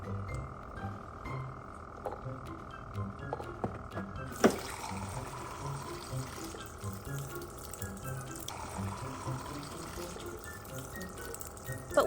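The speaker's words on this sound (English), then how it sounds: "while turning the tap, perhaps in a bit of a hurry, she accidentally let the water overflow" Water runs from a dispenser tap into a glass and overflows, a continuous trickling stream with a sharp clatter partway through, under a soft background bed.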